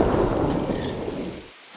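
Heavy rain pours down with rumbling thunder, a loud, dense, steady wash of noise that cuts away sharply just before the end.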